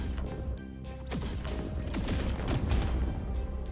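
Point defense guns in Terra Invicta chatter in rapid overlapping bursts against an alien barrage, with crackling impacts and explosions layered into a dense, steady din.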